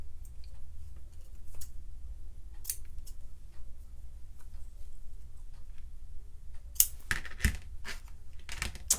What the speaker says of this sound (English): Get my ribbon scissors here.